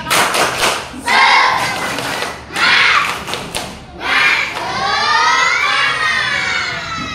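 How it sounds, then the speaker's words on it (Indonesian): Students in a classroom clap in short, loud, rhythmic bursts separated by brief pauses, with voices cheering and chanting along in places. "Ya, tepuk tangan. Tepuk semangat."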